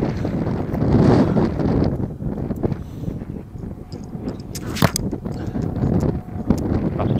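Strong gusts buffet the microphone outdoors in a continuous low roar, rising and falling, with a few sharp knocks and faint rustling.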